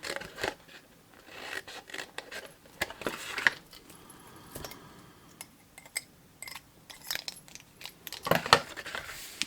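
Scissors cut through paper for a gift box in short, irregular snips and crisp rustles, close and fairly quiet, with no talking.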